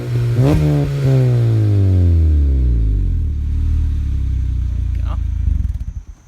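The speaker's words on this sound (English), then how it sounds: "let's show you guys a little exhaust note first" A 9th-generation Honda Civic Si revs hard with a loud, close exhaust note that climbs and then settles, its harmonics sweeping down toward a throaty idle before a brief sputter at the end.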